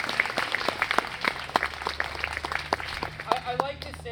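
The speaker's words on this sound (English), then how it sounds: "If we could give them all a big round of applause" A live audience gives a round of applause for sponsors at a theater event, scattered claps under a murmur of voices, moderately near and fairly light rather than a full roaring ovation.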